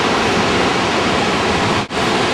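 Bubbs Creek rushes loudly and steadily near where it joins the Kings River, a dense, unbroken roar of whitewater close by with one brief dip near the end.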